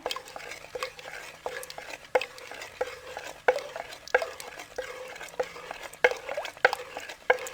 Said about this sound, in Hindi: अब इसको हम लकड़ी की मदानी के साथ इसका मक्खन बनाएंगे।